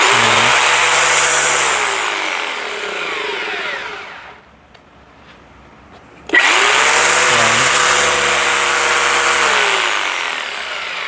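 A TE50 3-in-1 hammer drill runs loudly with a steady motor whine, dips to a quieter stretch in the middle, then surges back to full speed and keeps running.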